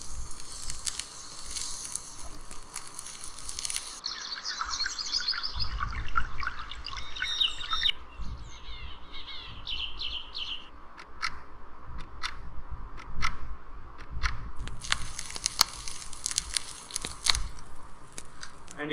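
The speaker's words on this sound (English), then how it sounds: "It can produce some really good nature sounds I'm gonna be showing to you." Nature sounds play from a to-do app's focus mode on an iPhone: a steady hiss like wind or running water, with scattered bird chirps and ticking clicks that shift in texture as the scene changes.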